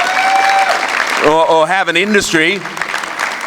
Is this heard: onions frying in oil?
no